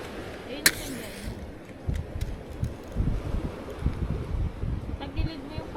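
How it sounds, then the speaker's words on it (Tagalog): Gusty wind rumbles against the microphone outdoors in bursts of low buffeting, moderately loud, with a sharp click early on and a faint background hiss. "Mahirap na to, mahangin."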